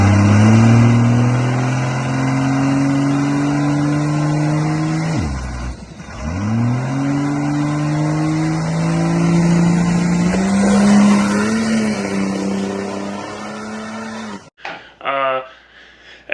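A drag race car sits at the staging lanes, its engine droning loud and steady, then revving and spooling up in pitch with a brief dip before cutting off near the end.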